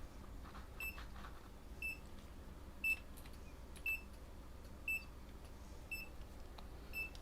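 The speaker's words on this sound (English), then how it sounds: "Sorry about the beeping." A USB-powered insulin fridge with a temperature fault gives short, high electronic beeps about once a second. Each beep is faint but distinct against a low background hum.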